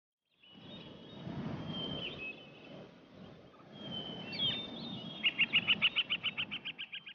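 Birds chirp and flutter in a forest, with soft rustling and flapping throughout and a quick run of bright repeated chirps near the end, close and fairly clear with no voices.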